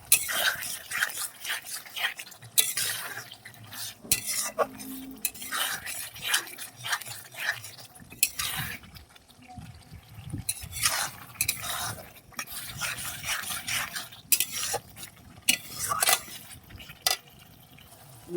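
Chicken tossed into fried spice paste in a pan, stirred with repeated scraping and clattering of a utensil against metal over a soft sizzle, fairly close and busy throughout.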